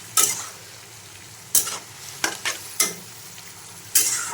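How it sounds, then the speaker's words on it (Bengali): Leafy greens fry in a pan while a utensil stirs them in several sharp, loud scraping strokes over a low, steady sizzle. "ভালো করে নেড়ে নেব।"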